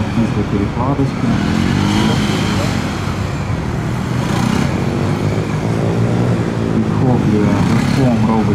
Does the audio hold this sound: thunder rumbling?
no